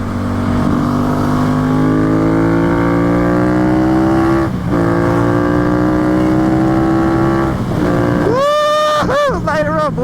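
A rebuilt Yamaha FZ-07 motorcycle engine revs hard and accelerates up through the gears, loud and close, with a brief shift pause in the middle, and voices cheer near the end.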